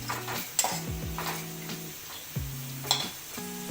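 Grated dry coconut toasts in a pan as a spatula stirs and scrapes, with soft sizzling and several sharp metallic clinks against the pan, quiet and close, with no talking.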